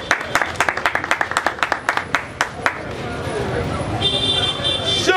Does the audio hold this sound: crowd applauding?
yes